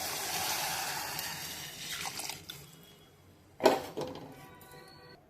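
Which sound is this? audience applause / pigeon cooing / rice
rice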